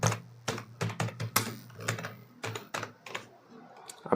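Rapid keystrokes on a computer keyboard as an address is typed, close and crisp, in uneven bursts of clicks with short pauses and no talk.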